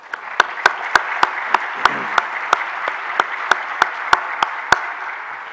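An audience at a closing ceremony claps for a human rights commission professor, a steady applause bed punctuated by a regular series of sharp, louder claps from nearby.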